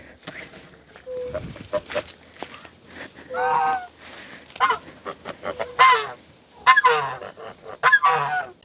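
Several geese honk nearby in loud, irregular calls, with a person talking between and under them.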